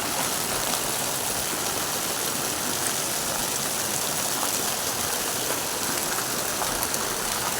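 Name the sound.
heavy downpour of rain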